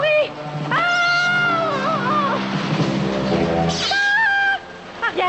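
A cartoon cat meows in drawn-out, wavering, pitch-bending cries that come close and loud, with a second shorter yowl after a brief pause, mixed with busy cartoon sound effects.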